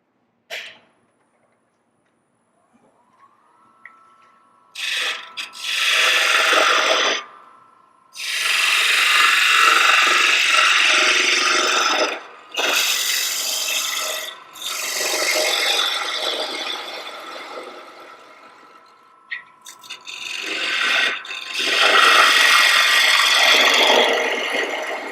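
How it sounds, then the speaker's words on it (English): A wooden spiral box is hollowed out on a lathe, with repeated harsh scraping bursts from the cutting tool over a faint motor whine, broken by short pauses. "now I'm going to hollow this out a little bit more, both the depth and also the width"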